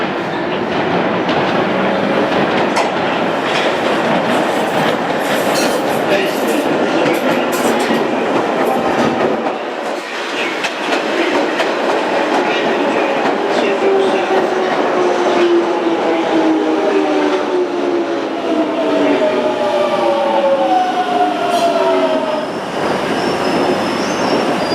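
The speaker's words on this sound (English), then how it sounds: "Metropolitan line trains like this one can reach up to 60 miles per hour." A London Underground Metropolitan line train runs loud and close, wheels rumbling and squealing on the rails, with a rising whine of traction motors as it gathers speed and no voices.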